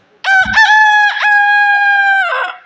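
A man imitates a rooster's cock-a-doodle-doo with his voice, giving one long, loud, close crow that rises, holds and trails off, heard alone.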